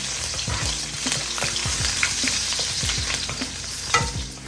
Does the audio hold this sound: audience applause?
no